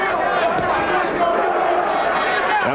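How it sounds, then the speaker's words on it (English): Boxing match crowd chants a boxer's name, a dense roar of many voices filling the arena, continuous and loud, with a commentator talking over it. "And the chants of Lewis from the crowd."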